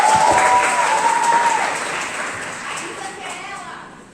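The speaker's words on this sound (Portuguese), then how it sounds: "Aninha, salva de palmas." Audience applause at a live event, a burst of clapping that starts strong and gradually fades over a few seconds, with voices mixed in.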